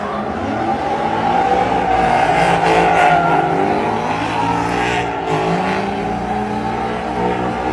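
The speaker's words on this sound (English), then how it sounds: "Drift cars down the backstretch in the infield." Drift cars racing down a backstretch at a competition day, engines screaming near the limiter with tire squeal, loud and close, a dense continuous roar with pitch wavering.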